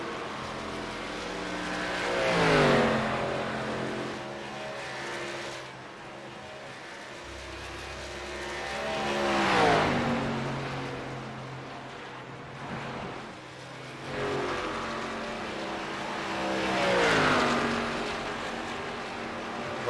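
Race cars in a league championship race at Texas roar past one after another, each pass building to a loud peak and fading away, with three clear passes at a steady rhythm.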